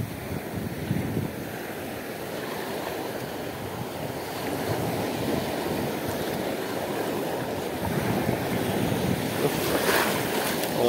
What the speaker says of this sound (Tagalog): Ang laki ng alon, no?